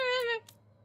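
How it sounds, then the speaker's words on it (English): A single drawn-out cat meow, harmonic and clear, fading after under half a second and followed by faint background noise, heard in a Dragon Age: The Veilguard gameplay session. "if you can hear meowing in the distance, it's Killy."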